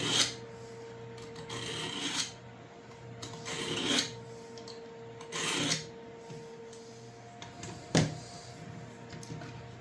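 A restored Jowika camp knife is worked with heavy-grit abrasive, giving a run of soft, rhythmic rasping strokes every couple of seconds that swell and fade over a faint steady hum.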